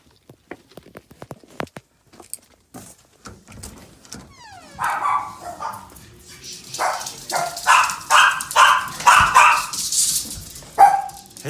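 Several dogs bark in bursts, fairly close, at an abandoned desert property in Silver Springs, Nevada, after some scattered clicks and footsteps; the barking grows busier and louder toward the end.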